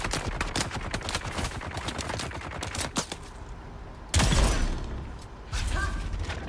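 Rapid gunfire in the Dune Awakening video game, a dense run of sharp repeated shots fading into a pause and then loud bursts of impact noise, all close and without talk.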